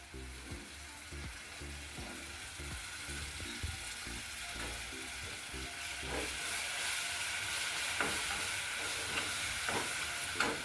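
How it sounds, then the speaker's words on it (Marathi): Malvani fish fry masala, ready-to-cook, sizzles and fries steadily in a hot pan while being stirred, with a continuous hiss and repeated soft scraping strokes of the spoon throughout, no talking. "आता आपला Malvani fish fry masala ready to cook हा घालायचा आहे त्यामध्ये।"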